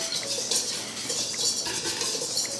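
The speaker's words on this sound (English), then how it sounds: "So you gotta get it all whisked up." Almond flour and baking powder are whisked in a bowl for keto bread, giving close, rhythmic scraping and light clinking strokes in steady repeated bursts, with no talking.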